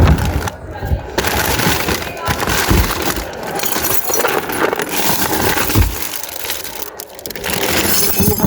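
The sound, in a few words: broken pieces clinking while being gathered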